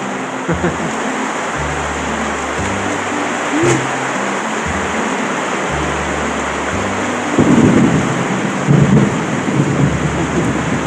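Steady, heavy rain hisses at a campsite at D'Tree Farm in Bailen, Cavite, Philippines, while low thunder rumbles in repeated rolling swells throughout.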